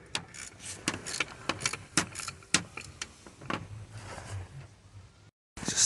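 A socket wrench loosens starter motor bolts on a Land Rover Freelander 2, giving a close run of rapid metallic ratchet clicks and clanks that cut off abruptly near the end, with no talk.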